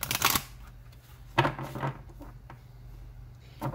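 Tarot cards shuffled by hand in a quiet room, a few short papery riffles and flutters with pauses between them, close and fairly soft.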